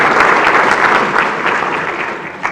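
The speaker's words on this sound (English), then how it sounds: "Let's give them a round of applause." Audience applause at a Chamber of Commerce awards evening, a dense steady wash of many hands clapping loudly throughout, close and continuous with no voices over it.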